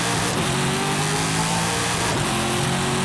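A car engine in Forza Horizon 5 revs hard and pulls away, a loud, sustained mid-pitched roar with rising harmonic whine, heard alone without speech.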